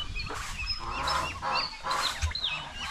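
Several male turkeys at a backyard pen gobble and honk in overlapping bursts against steady farmyard background noise, fairly close and moderately loud.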